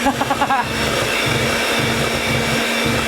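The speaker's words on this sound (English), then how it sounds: "I'm going to take Mix Master, really easy" A Mix Master electric stand mixer beats custard ingredients until creamy, making a steady, loud motor whir with a low droning hum and a few brief bumps near the start.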